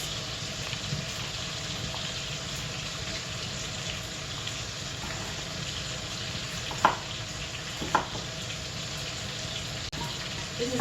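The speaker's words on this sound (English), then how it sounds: "this bacon is almost finished" Bacon sizzles and crackles steadily in a pan for an Irish coddle, a loud continuous frying hiss with a couple of sharp pops and clicks near the end, no talking.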